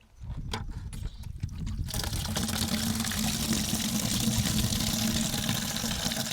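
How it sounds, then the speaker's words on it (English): Water pours steadily into a bucket at an off-grid well, a broad continuous rushing flow starting after a couple of seconds of quieter shuffling and lasting to the end. "We should fill up our bucket with water first."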